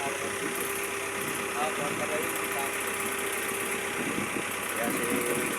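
A fishing boat's large engine idles steadily and close by, a continuous low rumble with a faint knocking vibration, while people talk over it.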